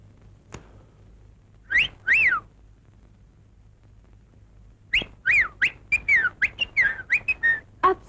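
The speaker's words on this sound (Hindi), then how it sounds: "आप सीटी बहुत अच्छी बजाते हैं।" A person whistles a melodic tune indoors, starting with a couple of short phrases, then after a pause a quicker run of bright, close, clear notes in a lively rhythm.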